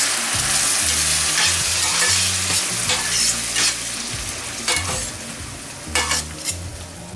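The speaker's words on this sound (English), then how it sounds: "since the cooking is done on high heat, we keep stirring the ingredients so that they don't stick at the bottom" Garlic and blanched tomato puree cooking on high heat for shrimp masala, stirred continuously in the pan: loud, constant sizzle and bubbling with periodic scraping strokes, close up and without speech.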